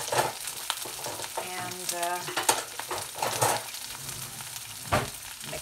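Vegetables sizzle and crackle as they are stirred together in a frying pan, with scraping stir strokes and a steady hiss; a brief spoken word slips in.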